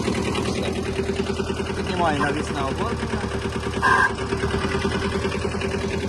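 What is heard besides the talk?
Kubota B-10 Japanese mini tractor engine idling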